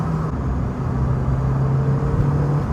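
A Porsche 924 Carrera GT with a turbocharged engine pulls hard in second gear, a loud steady engine drone with a low hum and broad road roar, close and continuous, no talk.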